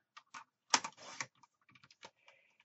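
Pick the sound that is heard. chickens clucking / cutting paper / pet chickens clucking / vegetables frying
cutting paper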